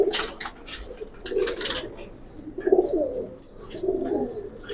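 Male Silver Pankhi Military pigeon cooing in a few repeated low bursts, with sharp wing flaps early on and high chirps from other birds nearby.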